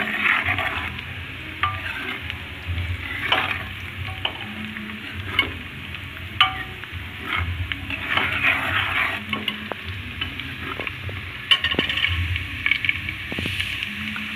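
Curry leaves and onions fry in a pan while being stirred, a continuous close sizzle broken by repeated scrapes and knocks of the spoon against the pan.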